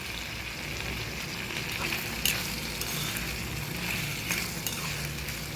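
Tomatoes and green chillies fry in a shallow splash of oil for a sesame-tomato chutney, giving a steady, close sizzle that runs the whole time, with a few brief sharper crackles and spatters near the middle.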